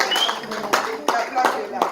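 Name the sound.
congregation applauding in church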